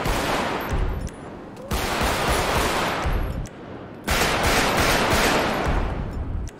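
Sustained automatic gunfire in GTA V with a realistic gun sounds mod, three long, loud, dense bursts of rapid shots separated by brief gaps.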